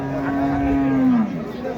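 A single long moo from a Sindhi-breed dairy cow at a cattle market, close and full, lowering slightly in pitch before trailing off.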